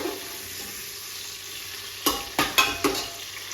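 Tomatoes frying in a pan for Punjabi matar pulao, with a quiet sizzle that gives way to four sharp scraping stirs of a spoon near the end; no talk.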